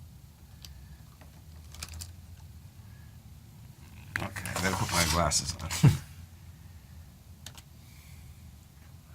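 Quick keyboard typing in a radio finance show studio, light and close, mixed in under ongoing conversation, with a louder burst of clatter near the middle.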